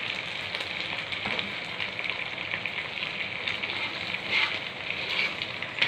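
Eggs frying in a pan for a Filipino silog breakfast, a steady bright sizzle with faint crackles running continuously and fairly close, no talk over it.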